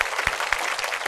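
Brief burst of audience applause on a Vietnamese dating show set, dense rapid clapping with a few sharper claps standing out, lasting about a second.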